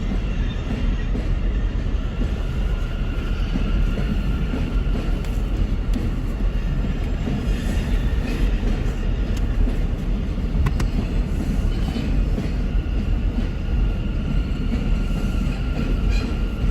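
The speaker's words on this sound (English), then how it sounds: "The heck is that noise? Train, choo-choo train." A train passes on a New York City street, heard from a car: a loud, steady broadband rumble and rattle of rail cars that holds for the whole stretch with no break.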